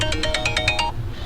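A mobile phone ringtone chimes during a trailer wiring install on a 2012-2016 Honda CR-V, playing about seven quick, bright pulses close by over low background hum before stopping.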